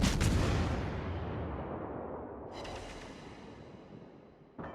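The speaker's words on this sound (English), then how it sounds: "If you get those flat broadsides to shoot at, those German guns will deliver." A German battleship in World of Warships firing a heavy gun salvo, a loud booming blast that rolls off into a long fading rumble, followed by a second sharper report near the end.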